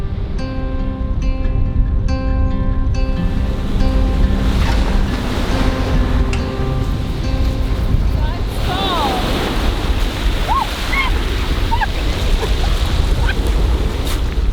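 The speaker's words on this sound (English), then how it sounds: "This coastline here, where the beach meets the mountains" Ocean waves wash steadily onto a beach on the Albanian coast where the shore meets mountains, a loud continuous surf roar buffeted by strong wind noise, with faint tonal sounds in the first half.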